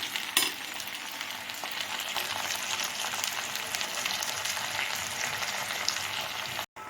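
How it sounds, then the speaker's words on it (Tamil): Mixed vegetables sautéing in hot oil for a Tamil kootu kuzhambu, giving a steady, close sizzle with faint stirring that runs unbroken for several seconds before cutting out briefly at the end. "இந்த எண்ணெயிலே கொஞ்சம் வதங்க விடுங்க"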